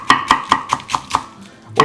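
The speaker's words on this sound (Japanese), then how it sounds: "キャベツ添えの千切りしていきます" A kitchen knife shreds small rolled-up cabbage leaves on a cutting board for a side garnish, giving crisp, evenly spaced chops about five per second, close and loud, with no talking.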